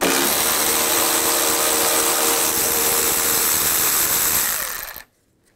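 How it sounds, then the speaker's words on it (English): A power driver with a 10 mm socket spins out a bolt while a washer reservoir is removed from a 1999-2006 Chevrolet Silverado 1500. A loud, steady whirring drone runs for about five seconds, then cuts off abruptly. "Using a 10 millimeter socket, take this bolt out"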